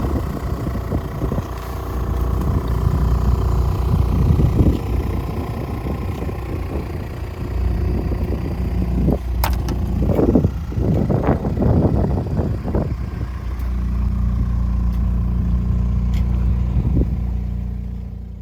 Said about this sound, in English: After a long day's sailing, we finally motored into the calm waters of Princess Louisa Inlet